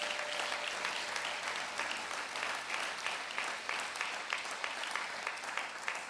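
A church congregation at a French-language prayer service applauds steadily, a dense, even patter of clapping hands that sustains throughout without talk.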